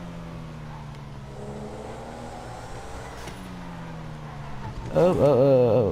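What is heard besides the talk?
Pfister Astrale car driving in video game GTA V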